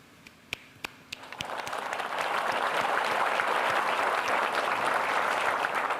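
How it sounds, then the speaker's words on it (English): An audience at the Efma-Accenture Innovation in Banking Awards applauds the pitchers: a few scattered claps, then the whole room breaks into dense, sustained clapping that holds steady to the end. "So can we get a round of applause,"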